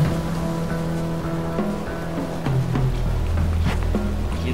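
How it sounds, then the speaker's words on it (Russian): In the game Shelter, rain begins to fall as a soft, steady hiss under low, sustained ambient music tones. No voices are heard. "Да, это здесь, дождь пошел."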